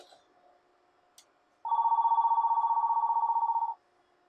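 An incoming call sets off a telephone ring in a quiet room: a single loud, warbling electronic burst lasting about two seconds, with faint clicks just before it.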